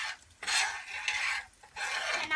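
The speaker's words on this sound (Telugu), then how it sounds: "ఆ పసుపుని మిక్స్ చేయాలి." Turmeric being stirred into mustard seeds and ginger in a pan for lemon rice, three close bursts of scraping and rubbing strokes separated by brief pauses, no talking.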